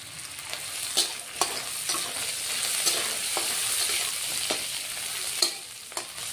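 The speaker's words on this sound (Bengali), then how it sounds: "দুটো শুকনো লঙ্কাও দিয়ে দিচ্ছি।" Dried red chillies fry and stir in hot oil in a home kitchen, a steady close sizzle with occasional sharp clinks and scrapes of a spoon against the pan.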